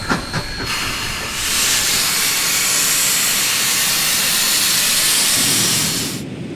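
A steam locomotive at the B&O roundhouse in Butler gives off a loud, sustained hiss of escaping steam after a few short chuffs, holding steady for several seconds before cutting off abruptly.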